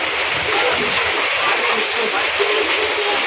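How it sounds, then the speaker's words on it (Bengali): Heavy rain pours down during a rainy day outdoors, where children bathe in it at a grandparent's village home. The rain makes a dense, steady hiss with splashy texture, and faint voices may sit beneath it. "প্রথমে বৃষ্টি দেখে বলতে যাই রাইয়াকে একটু ভিজাই"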